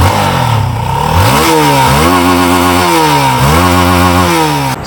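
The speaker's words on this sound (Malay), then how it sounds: "Kita cuba start motosikal ni, dengar dia punya bunyi enjin sama ada bunyinya masih lagi lembut ataupun kasar." A Z15GT motorcycle engine runs steadily and loudly close by, its pitch rising and falling through several throttle revs over about five seconds, with no talking.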